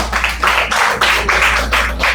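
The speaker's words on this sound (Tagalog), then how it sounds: "Palakpak." An audience claps on cue at a church service, a burst of rhythmic, fairly loud group clapping with steady pulses lasting a couple of seconds.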